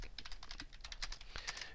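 Quiet, rapid typing on a computer keyboard while working in Microsoft Word 2010, a steady run of close, light key clicks with no talking.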